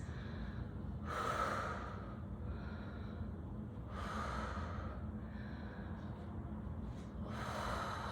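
Deep, slow breaths during a yoga backbend stretch come through as three long hissing exhales, close to the microphone and evenly spaced, over a low steady background hum.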